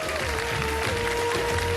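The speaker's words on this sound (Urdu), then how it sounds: "تالیاں بجا کر آپ نے بتانا ہے کہ" Studio audience on a Ramadan iftar television show clapping, a dense continuous patter of hands at fairly close range filling the whole moment, with a faint tonal hum beneath it.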